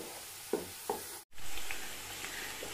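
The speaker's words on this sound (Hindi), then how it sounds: "ये देखिए मेरी सब्ज मिर्चें और लहसुन अदरक पकना शुरू हो गई है" Green chillies, garlic and ginger fry in a pan with a quiet, steady sizzle, broken by a few soft clicks and a brief stir.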